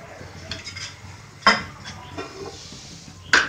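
A pan handled on the stove while oil goes in: soft scrapes and two sharp metallic clinks of cookware, moderately close, without talk.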